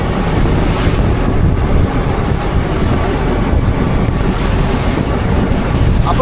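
Strong wind buffets a fishing boat at sea as big storm waves crash and surge around it during pomfret fishing, a loud, continuous roar of gusts and water with no speech.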